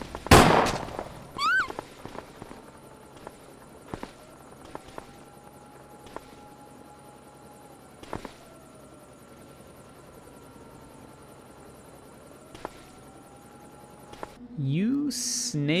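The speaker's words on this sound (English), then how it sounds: "They chase us onto the rooftops where a helicopter is waiting for us for some reason." A helicopter waits on a rooftop in a Japanese kaiju video game, its steady rotor hum running under sharp game effects, swooping tones and a few loud hits, with a louder burst at the very end.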